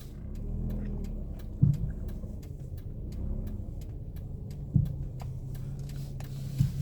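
A car driving on a Coney Island street during a road test, a steady low engine rumble heard from inside the cabin, with a few soft thuds and faint ticking clicks over it.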